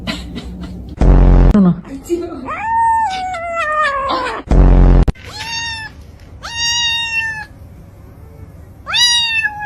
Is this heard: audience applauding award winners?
no